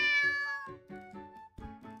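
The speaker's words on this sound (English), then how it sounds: "I hear a little meow from below me." Cat meowing in a video game: several short, clear meows in a quick sequence, close and alone without talk.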